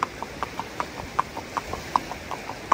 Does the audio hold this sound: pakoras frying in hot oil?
no